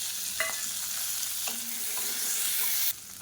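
Shallots, tomato, ginger and green chillies sautéing in a pan for a peanut-mint chutney, a steady close sizzle with a few spoon-scraping stirs, and the hiss cutting sharply lower near the end.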